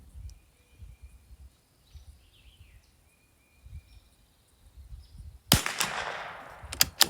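A single sharp crack from a rifle firing Eley match ammunition breaks a quiet outdoor range with faint birdsong, the report followed by a short decaying echo.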